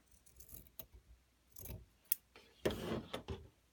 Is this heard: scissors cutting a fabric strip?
yes